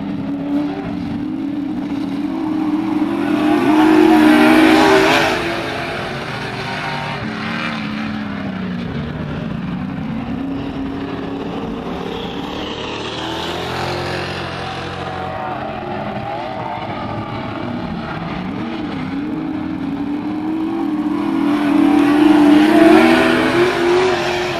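Superstock race cars circling an oval track at Barona, a loud continuous roar of engines with swelling passes as the pack sweeps by, tires squealing through the turns, and a faint crowd or announcer underneath.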